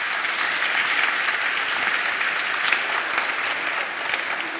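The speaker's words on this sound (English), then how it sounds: "Round of applause, please." An audience at a PyCon UK children's show-and-tell gives a steady round of applause, dense even clapping filling the whole stretch at moderate volume.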